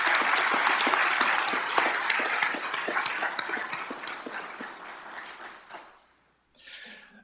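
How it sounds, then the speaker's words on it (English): Applause from an audience at a police academy graduation ceremony, a dense wash of many hands clapping that holds steady, then thins and fades out near the end, with a brief renewed patter after a short gap. "Give them another round of applause, please."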